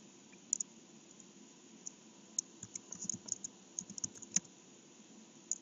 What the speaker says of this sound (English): let me go ahead and type in